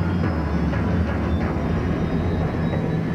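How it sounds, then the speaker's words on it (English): An SRN-6 hovercraft engine runs at full power, a loud, steady roar with deep low rumble and broad rushing noise held throughout, no voices. "On full power, the SRN-6 lifts to over 7 feet above the ground."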